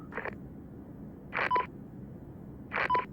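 Satellite phone dialing tones in ARMA 3: three short, crisp keypad beeps spaced about a second and a half apart, heard clearly over a faint hiss of background noise.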